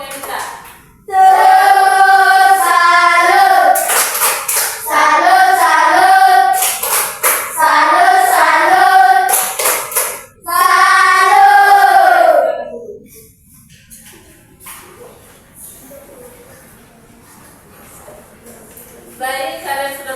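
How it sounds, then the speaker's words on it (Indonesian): A class of fourth-grade students in a school classroom claps and chants in loud, rhythmic bursts, with shouted voices over the applause, before it fades into quieter murmuring. "tepuk salut untuk kelompoknya Nisa."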